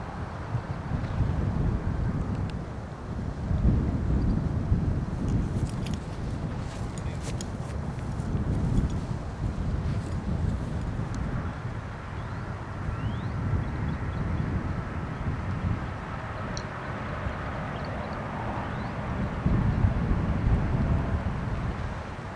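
Strong wind buffets across an open disc golf course, roaring and gusting in uneven surges over several seconds, rising and falling loudly with brief faint clicks on top.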